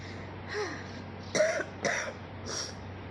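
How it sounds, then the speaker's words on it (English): A few separate coughs and throat clearings, close and fairly quiet, spaced apart with short pauses between them. "I have a terrible cough"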